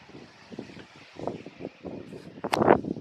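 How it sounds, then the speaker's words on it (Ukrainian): Strong gusty wind with gusts of about 10 metres per second buffets the microphone outdoors in irregular low rumbling bursts. The gusts grow louder toward the end. "Сильний вітер, сильний. Навіть пориви, мабуть, до 10 метрів в секунду буває."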